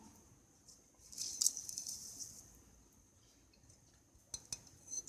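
Beef being mixed by hand with yogurt and spices for a marinade gives soft, faint squelching and patting, with a brief clink of utensil against a bowl and a few light taps near the end.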